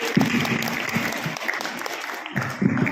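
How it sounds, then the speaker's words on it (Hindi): Audience clapping for a teacher at a school Children's Day celebration, a short burst of moderately loud applause with some voices and cheers mixed in. "Give a big hand to him."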